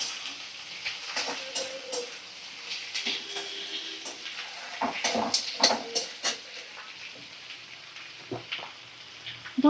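Fish curry masala of ginger-garlic paste and chopped tomato fries in a pan over a medium flame, crackling with irregular sharp pops and sputters at close range.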